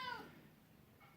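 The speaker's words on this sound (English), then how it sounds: "and my cat" A house cat gives one short, faint meow at the start, followed by a brief quieter chirp, heard in a garage where an old car is being restored.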